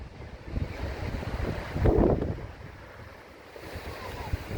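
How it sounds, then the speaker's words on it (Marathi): Steady roar of a waterfall at Sautada mixed with gusty wind buffeting the microphone, swelling briefly in the middle, with no voices. "धबधबा बघायचा आहे दिसू लागलाय"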